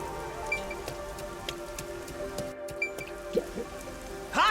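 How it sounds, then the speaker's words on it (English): Rain patters steadily on surfaces in the video game Rain Code, with scattered drips and a few sharper tones near the end, all at a moderate, even level and with no voices. "I'm starting to feel like the rain isn't so bad"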